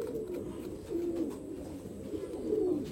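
Nearby pigeons give low, throaty coos in a few rolling phrases during a medicine session for pigeons, the calls rising and fading against quiet rustling.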